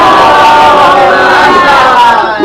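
A mosque congregation recites salawat together in response to a preacher during a Muharram majlis, a loud, sustained blend of many voices chanting in unison for a couple of seconds.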